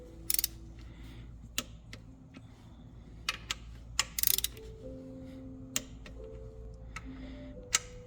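A torque wrench set to 17 clicks sharply while bolts are tightened on an Eclipse GST project car, giving several isolated, fairly close clicks at irregular intervals over a low steady hum.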